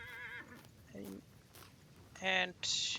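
A horse in the video game Vintage Story whinnies several times in short tonal calls, one louder, high burst near the end, under a voice talking.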